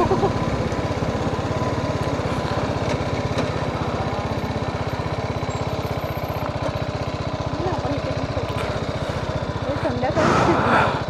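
Motorcycle engine running near a beach spot, a close, steady rapid chugging idle throughout, with voices talking over it.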